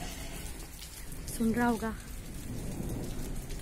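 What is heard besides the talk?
rain falling with rumbling thunder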